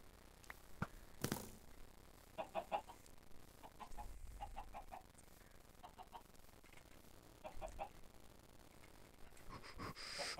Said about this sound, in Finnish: Se on pieni viaton kana ja sä vaan ammut sitä